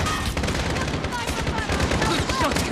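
Gunfire in a Modern Warfare match, with dense overlapping shots and bursts crackling continuously and loudly, sniper fire mixed into the chaotic battle noise with no clear pauses.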